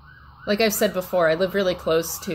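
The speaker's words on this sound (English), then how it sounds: "so there's sirens going by all the time" A wailing fire department siren sweeps faintly in the background while a person talks close by over it.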